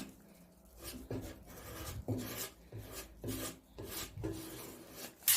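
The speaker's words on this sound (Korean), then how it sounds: "메꾼 부분을 220방 사포로 곱게 갈아서 깨끗하게 다듬어 줬고요" Rhythmic back-and-forth rasping of 220-grit sandpaper smoothing a filled hole on an old wooden dresser, close and steady, with about ten strokes and no talking.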